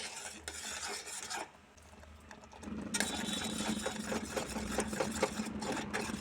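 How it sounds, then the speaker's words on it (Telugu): Spoon stirring a grated coconut and sugar mixture in a pan on a low flame for homemade coconut ice cream: quiet, rhythmic scraping and clinking against the pan with a soft sizzle, briefly pausing before resuming. "ఇది వేసాక లో ఫ్లేమ్లోనే కలుపుకోవాలి"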